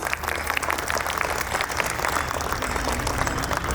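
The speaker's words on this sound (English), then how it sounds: "Let's welcome her with a huge round of applause." An audience at a preschool's annual day celebration welcomes the principal with dense, continuous applause, a loud wash of many hands clapping together throughout.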